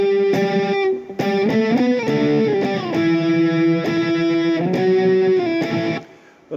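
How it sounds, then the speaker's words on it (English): Overdriven electric guitar plays a line in octaves, a sustained, buzzy tone with ringing paired notes that shift pitch every half-second or so, played alone and ending in a brief gap. "and with overdrive on, it should sound something like this"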